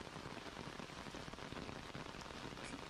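Steady rain in a video game set in a Tokyo street scene, a soft, even hiss of drops on surfaces, continuous and fairly quiet with no other sounds.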